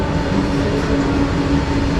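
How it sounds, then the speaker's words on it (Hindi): A freight train rolls past at Najibabad railway station in India, a loud, steady, close rumble of wagons and wheels on rails that fills the whole stretch without talk. "ट्रेन जा रही। तो बड़ा मज़ा आ रहा है यार, मतलब वो मालगाड़ी है"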